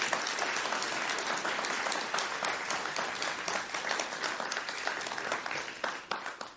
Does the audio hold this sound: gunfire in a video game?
no